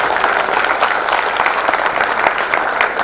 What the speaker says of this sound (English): can I have a round of applause for my team,